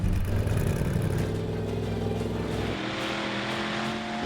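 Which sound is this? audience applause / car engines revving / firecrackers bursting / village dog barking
car engines revving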